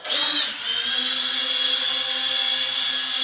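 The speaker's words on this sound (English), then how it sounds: "let's do a manual takeoff to start the propellers and then go up" A FLYHAL E69 mini camera drone spins up its propellers for an indoor takeoff, a loud, steady high-pitched whine that starts abruptly and holds level throughout, no voices.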